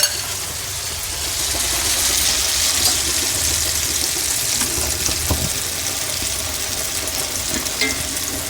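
Wheat flour burelu sweets bubble and fry in hot oil with a loud, constant hissing sizzle that holds steady throughout, close up and uninterrupted by any talk.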